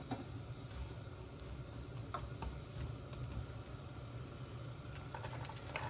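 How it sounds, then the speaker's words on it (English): Onion sizzling in melted butter, a steady close crackle and hiss that runs unbroken throughout, with no voices. "We're gonna put in our onion. We want to hear that sizzle."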